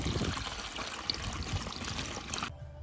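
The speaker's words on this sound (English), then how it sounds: "I'm going to fill up the water tank." Water pours through a funnel into a camper's water tank, a steady close gushing rush that runs for about two and a half seconds and then stops abruptly.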